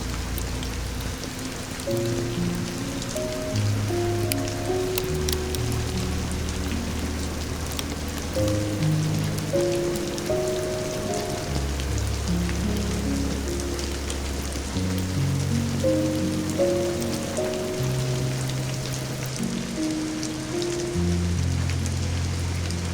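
Steady rain patters on a train throughout, even and continuous, with soft low tones murmuring underneath.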